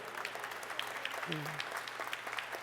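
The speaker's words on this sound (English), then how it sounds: "So I just want to give you a round of applause for the leadership you've displayed as our chairman" Faint applause for a chairman at a New York clean hydropower announcement, a dense patter of many hands heard from a distance at low level, with a brief voice murmuring partway through.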